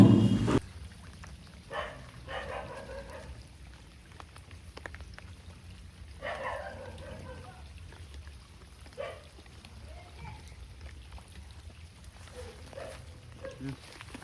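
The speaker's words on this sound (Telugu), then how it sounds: "ఈరోజు వర్షం కూడా చాలా ఎక్కువగా అయితే ఉంది" Steady rain falls over a village during a fishing outing, a broad hiss of drops hitting surfaces that holds through the whole stretch, with a few brief louder spatters and knocks and no talking.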